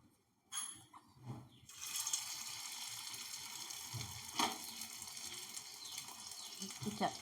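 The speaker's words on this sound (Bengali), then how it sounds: "এবারে এটাকে ভাজবো।" Chhana kofta patties frying in hot white oil, a steady sizzling hiss starting after a quiet moment and continuing throughout, with occasional louder pops and crackles.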